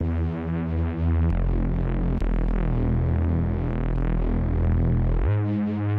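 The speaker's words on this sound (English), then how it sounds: "the asymmetrical distortion kind of sounds like a fart" A future bass synth run through asymmetrical distortion gives a buzzy, fart-like low throb. A steady tone shifts into a thick, rippling distorted bass for about four seconds, then returns to the cleaner tone. It plays loud and alone, with no voices.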